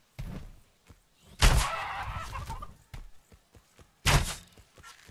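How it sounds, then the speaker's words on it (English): A chicken clucks in the survival game Atlas, a few short clucks scattered among footsteps and movement, with two louder bursts of rustling or impact noise in between. "All right, I heard a chicken."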